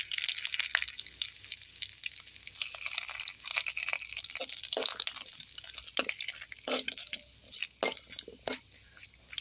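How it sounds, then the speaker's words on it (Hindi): Cumin seeds and torn bay leaves hit hot oil in a pan, crackling and sizzling steadily up close with small pops and a few stirring scrapes, and no talking. "अब इसमें मैं आधी चम्मच के लगभग जीरा डाल दूँ और 2 तेज़पत्ता तोड़ के डाल रही हूँ।"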